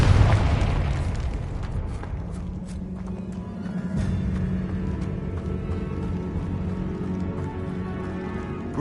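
The Confringo explosive spell from the video game Hogwarts Legacy goes off with a loud, deep blast at the start, then trails into a rumbling, crackling tail with scattered debris-like pops.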